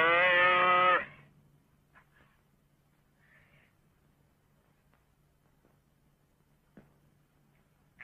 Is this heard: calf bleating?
yes